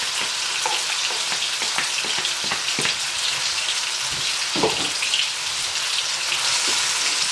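Saltfish sizzling in a hot pan for ackee and saltfish, a dense, loud crackling fry with scattered popping spits and a few stirring scrapes, heard close and steady throughout with no speech.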